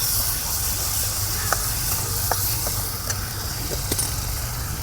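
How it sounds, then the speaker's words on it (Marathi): Spice paste sautéing in hot oil in a kadhai for a fish curry gravy, a steady broad sizzle and hiss throughout with a few faint stirring clicks, fairly close. "त्यात टाकून घेतो पेस्ट आणि मस्त परतून घेतो."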